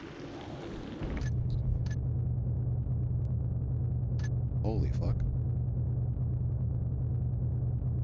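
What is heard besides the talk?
deep rumbling thunder in the video game Thief Gold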